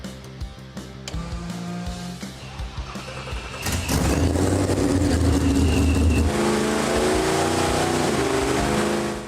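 A Ford Coyote V8 in a Mustang on a chassis dyno in the shop cranks and fires, then settles into a loud, steady idle and light revving that fills the room.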